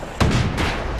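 A single sharp blast of gunfire from turrets in the video game Bastion, loud and close, followed by a second hit and a rumbling tail.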